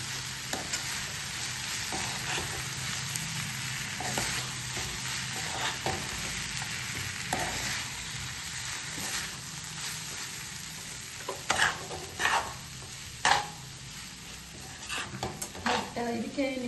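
Flattened rice for avalakki chitranna stirred in a frying pan, a soft scraping sizzle with light spatula clinks and taps against the pan, faint and close, growing more clattery toward the end.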